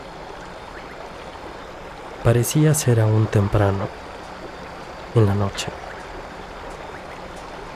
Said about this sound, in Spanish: Allá afuera seguía oyéndose el batallar del río, el rumor del aire